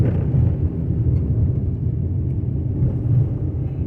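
A car rolling along a road through a small farming town, a steady low rumble of tires and engine from inside the vehicle with gentle swells, no talking.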